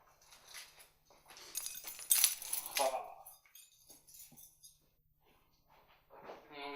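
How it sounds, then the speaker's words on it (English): Car keys for a Mitsubishi vehicle grabbed and jangled nearby, a short burst of bright metallic clinking in the middle, with quieter handling rustle before and after. "So let me grab the keys to the vehicle here."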